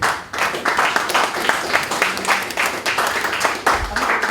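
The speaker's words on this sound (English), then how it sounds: "Please give her another round of applause." An audience at a UK awards ceremony applauds, a lively, close crowd of clapping hands with distinct rhythmic claps running the whole time and brief voices underneath.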